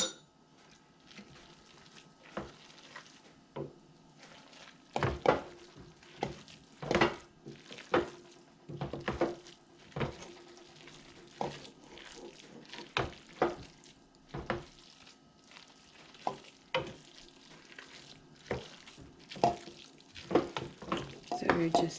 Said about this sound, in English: So we just mix it in, mix it in.